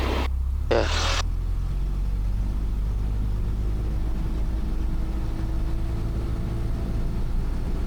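A light airplane engine runs up to 1700 RPM, giving a steady, loud, droning rumble that holds constant across the stretch after a brief noisy burst at the start.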